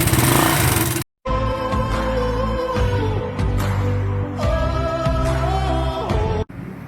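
A motorcycle engine with a lingering noise at low idle runs loud and close, revving and settling, with a brief cutout near the start and a drop at the end.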